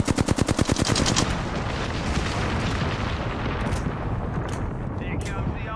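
Gunfire in the Apex Legends video game opens with a rapid burst of automatic shots, then gives way to a dense, loud roar of booming fire and explosions.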